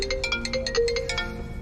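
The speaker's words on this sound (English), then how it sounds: "My phone's ringing." A mobile phone ringtone chimes in a steady repeating pattern of bright electronic tones, fairly close and alone, over a low background hum.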